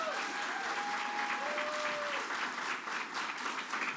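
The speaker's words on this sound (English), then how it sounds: "Let's give them a round of applause for their efforts" At a governor's bill signing honoring Holocaust survivors, the audience applauds steadily at low level, with a faint sustained tone heard early on.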